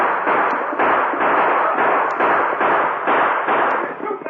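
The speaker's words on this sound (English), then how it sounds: "the sheriff and his posse rode in fast, firing as they approached" Rapid gunfire from a sheriff's posse in an old-time Western radio drama, a dense run of about ten sharp overlapping shots in quick rhythm, loud and close.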